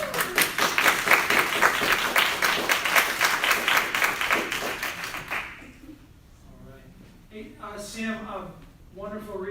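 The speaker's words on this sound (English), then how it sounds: "they were clapping very loudly" Audience clapping loudly after a poetry reading at a festival, dense applause for about five seconds that then drops away as a voice begins speaking.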